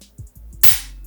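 A few light mechanical ticks as the trigger of a Panzer semi-auto shotgun takes up, then a sharp, close click as it breaks, followed by a short ringing decay, with no talking.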